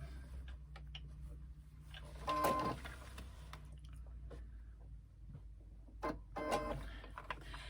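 A sewing machine stitches a tote bag seam in short bursts of rapid needle clatter, with quieter pauses and handling noises between runs.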